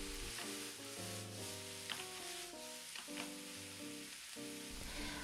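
Pork and daikon sizzle and crackle steadily in a hot pan, a constant frying hiss with occasional louder pops, close up.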